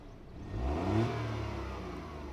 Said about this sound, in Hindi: and once the vehicle Fyers up, this is how it sounds